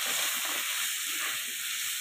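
Spices, among them turmeric, chili powder and coriander-cumin powder with ginger-garlic paste, fry and get stirred in hot oil, giving a steady close bright sizzle with soft scraping stir strokes underneath.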